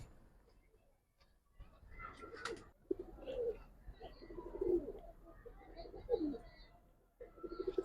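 Pigeons at a Bengali pigeon sale coo in a few low, rolling phrases, moderately close, with people talking intermittently around them.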